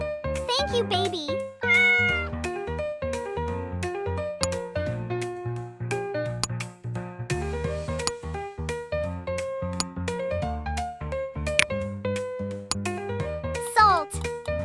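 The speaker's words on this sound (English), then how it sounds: "Oh, hello, Kitty" A cat meows repeatedly in a home kitchen, its cries short and frequent, heard close and clear alongside someone talking over it.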